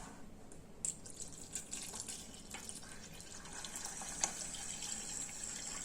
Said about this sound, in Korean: 그래서 거기까지 물을 부어주세요.